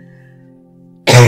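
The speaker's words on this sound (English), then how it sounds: "There's the cough for you." One short, dry-sounding but phlegmy cough bursts out loudly and close at the end, after a quiet steady hum.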